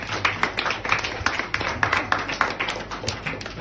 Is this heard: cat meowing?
no